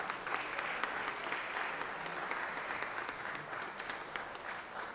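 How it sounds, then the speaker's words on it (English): Legislators and guests in a state legislative chamber give a round of applause for two visiting pages, a steady, fairly soft wash of many hands clapping with no talk. "let's give them a round of applause for being here with us"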